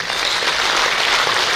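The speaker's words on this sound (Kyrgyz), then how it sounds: "Кыргыздын кыран жигиттерине бир кол чаап коюңуздар" Dense, steady audience applause fills a hall at a Mother's Day celebration honouring hero mothers, cheering Kyrgyz young men; loud and continuous with no voices above it.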